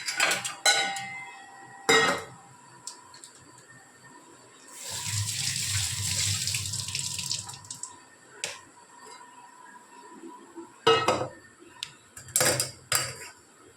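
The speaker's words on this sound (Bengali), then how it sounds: "ছানাটা কিন্তু আমরা খুব ভালো করে ছেঁকে নিচ্ছি।" Freshly curdled chhana being strained for rasmalai, with a steady pour of whey water through cloth lasting a few seconds, framed by sharp clinks of pots, bowls and utensils before and after.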